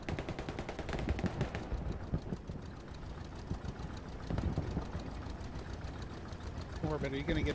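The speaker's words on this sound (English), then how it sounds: "I hear a tank or something, dude." A tank rumbles in a WWII video game battle, its rattling, throbbing engine churning steadily beneath bursts of machine-gun fire, with a voice calling out near the end.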